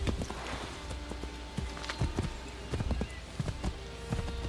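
Horse hooves clip-clop in the video game Assassin's Creed 3, with a steady run of close, distinct hoof strikes over a low ambient game background.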